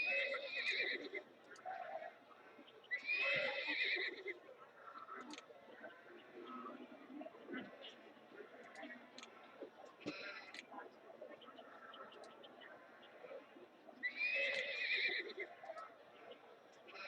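Horses in a zoo video game whinny several times, with shrill neighs near the start, around three seconds and again near fourteen seconds, set against faint clip-clop and ambient park sounds at low volume.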